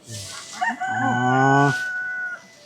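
A rooster crows once, loud and close, with a rising then long drawn-out call in a rural mountain village beside a river in the forest.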